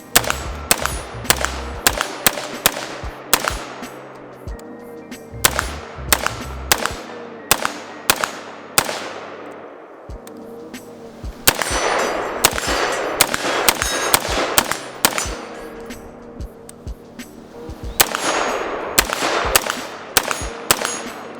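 An IWI Zion 15 AR rifle fires in bursts of sharp, loud shots. Each shot is followed by a brief ringing decay, and the bursts are split by short pauses. No one speaks.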